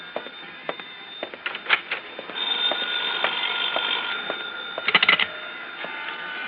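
A telephone rings with a bright, rapid metallic bell trill in repeated bursts, loud and close, with a few sharp clicks between the rings and no voices.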